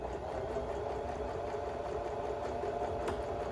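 Sewing machine stitching back over an overlocked seam, a steady fast mechanical whir with fine rapid ticking, fairly quiet and continuous throughout.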